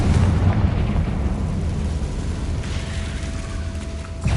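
Fiery Confringo spell explosion in the Hogwarts Legacy video game: a loud, rumbling blast that fades into a sustained low roar with a faint steady tone, then a fresh burst at the end.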